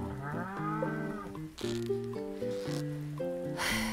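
Cows in the Stardew Valley farming game give a stylized, musical moo repeated over and over as several stepped, tonal calls. The sound is clear and steady against a quiet background, with a short burst of noise partway through.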